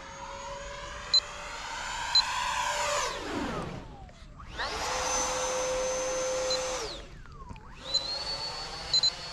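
A Freewing F-22 Raptor 90mm electric ducted-fan RC jet roars past in a steady high-pitched whine, fading and sweeping down in pitch, then returning for another loud pass and a falling drop-off as it comes in to land outdoors.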